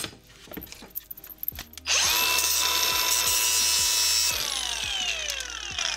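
An angle grinder runs a spark test on stainless steel scrap, spinning up after some light handling noise into a loud, sustained high whine with rhythmic low thuds, then easing off slightly toward the end.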